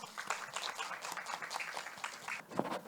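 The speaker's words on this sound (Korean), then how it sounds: "박수 부탁드립니다." Audience applause at an environmental education case presentation event, a faint, steady patter of many hands clapping across the hall, heard from some distance.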